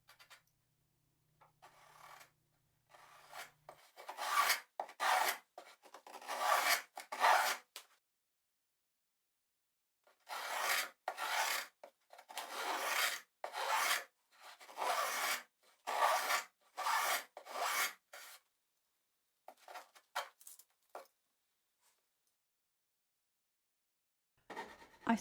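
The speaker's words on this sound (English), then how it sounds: "I smooth the hand grip edges and interior with a file." A file rasps in bursts of steady back-and-forth strokes along the edges and inside of a wooden trug's hand grip, close and clear with brief pauses between sets and no talking.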